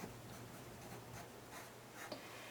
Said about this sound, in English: I'm going to write this like I did before.